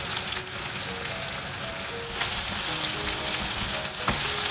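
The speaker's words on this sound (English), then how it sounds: "So I'm going to put the onions, the shallots, a bit of salt, the curry leaves." Onions, shallots, salt and curry leaves fry in hot oil for a breadfruit curry, giving a loud, close, continuous sizzle with occasional stirring scrapes and no talking.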